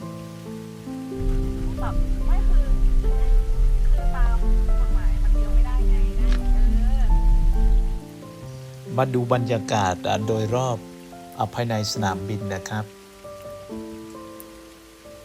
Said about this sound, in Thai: สายฝนก็เท ลงมาเรื่อยๆนะครับ ไม่มีทีท่าว่าจะ หยุดนะครับ